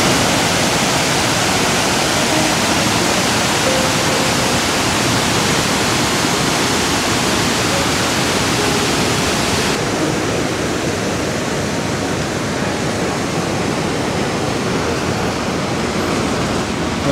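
Waterfall near Ramboda Falls on the Nuwara Eliya drive in Sri Lanka, a steady broad rushing roar of falling water that continues unbroken, loud and close.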